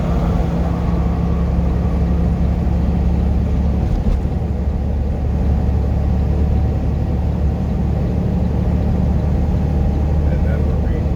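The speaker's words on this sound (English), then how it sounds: "Engine brake on high." A semi truck cruising with its engine brake set on high, a steady deep rumble and drone running loud and continuous throughout, close up from inside the cab.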